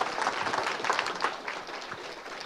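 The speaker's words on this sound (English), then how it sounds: "Let's give her another round of applause." A conference audience applauding a speaker, a steady wash of many hands clapping, fairly faint and distant, slowly tapering off.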